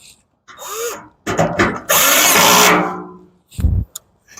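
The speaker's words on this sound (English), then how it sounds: "Use the drill." A power drill whirs in short bursts while assembling a portable pellet grill, then runs in one longer, loud sustained spin before stopping, followed by a brief thud.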